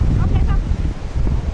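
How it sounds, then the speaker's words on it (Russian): Strong wind roars and buffets the microphone with a heavy low rumble in Alanya, Turkey, in October, while a voice speaks faintly beneath it. "Вот такой вот здесь сильный ветер"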